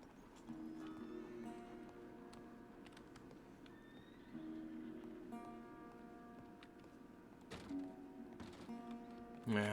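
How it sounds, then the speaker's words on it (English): Horse in a ranch roleplay video game neighing and whinnying in repeated drawn-out calls, with a steady rumble of movement beneath, fairly faint, and a few sharp knocks toward the end. "My horse."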